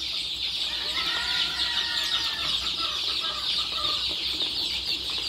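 Hens and chicks peck at chopped hard-boiled egg during a morning feeding, filling the air with constant high peeping and scattered clucks that blend into a steady, busy chorus close by, with no voices.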